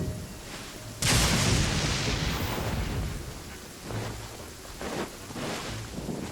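Rain pours steadily in the Genshin Impact video game while a loud thunderclap bursts in suddenly and rumbles on, followed by further softer rolls of thunder over the constant downpour.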